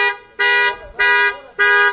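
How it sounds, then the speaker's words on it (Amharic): An electric car's built-in factory alarm sounds when someone tries to open the locked car: three loud, evenly spaced honking blasts, each about a third of a second long, close by with nothing else heard. "በዚህ መልኩ የራሱ የፋብሪካው አላርም ስላለ ሌላ ተጨማሪ አላርም አያስፈልገውም"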